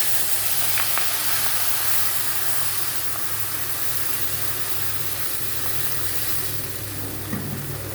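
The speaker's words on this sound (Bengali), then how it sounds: "জল দিয়ে দিলাম।" Water poured into a hot pan where fish has just been fried hits with a loud, close, continuous hiss of sizzling steam that holds evenly for about eight seconds, with a couple of faint clinks.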